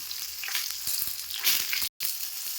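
Eggplant slices fry in a hot pan over low flame, giving a steady close crackling sizzle with small pops and a brief silent gap near the end, no voices.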